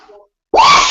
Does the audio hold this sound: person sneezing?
yes